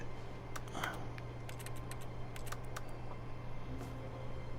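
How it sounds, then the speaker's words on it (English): Keyboard typing sound in the video game The Stanley Parable: a sparse run of quick, crisp key clicks in small clusters over a low steady hum, fairly quiet. "Does it not sound like I'm typing something right now?"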